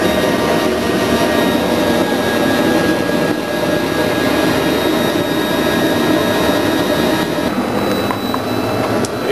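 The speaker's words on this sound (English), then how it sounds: "Here I have the flame running just a little bit lower" Propane keg burner turned slightly low, with its fan motor running. It makes a loud, steady roaring rush close up, like a jet, with a faint whine through it and no talking.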